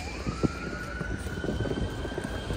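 An ambulance siren sounds in a city street during New Year celebrations in Prague, a steady wailing tone held over a dense, noisy rumble of crowd and traffic.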